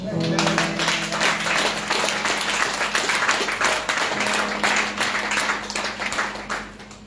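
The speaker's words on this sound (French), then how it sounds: "Acclame pour toi" A church congregation applauding during a deliverance service, with dense, sustained clapping throughout and sung or sustained voices running underneath.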